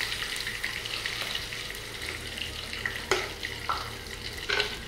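A steady hiss of vegetable handvo batter sizzling in a hot pan, with a few brief clicks and taps, close by and without speech.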